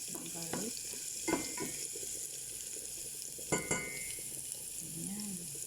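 Garlic sizzles steadily in a frying pan over a constant hiss, with a few sharp clanks of utensils and stirring, and no talk.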